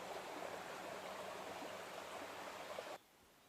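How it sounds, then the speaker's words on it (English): A mountain creek rushes steadily over rocks at a trail crossing on Green Knob Trail, a close, continuous wash of water that cuts off abruptly near the end. "Another creek crossing here. So we'll have to do some rock hopping."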